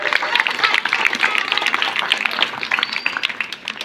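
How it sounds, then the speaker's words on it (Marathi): A village audience at a Jayanti singing competition in Bagpimpalgaon applauds loudly, with dense clapping that continues steadily throughout and fades slightly near the end. "आपण सर्वांनी एकदा त्यांच्यासाठी जोरदार टाळ्या वाजवायच्यात"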